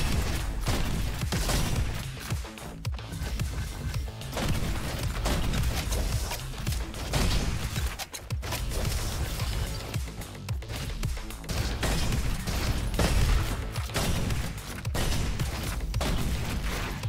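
Sniper rifle fire in the fast-paced shooter Roboquest, dense repeated loud shots and booms running continuously amid busy game effects, with no pauses and no talking.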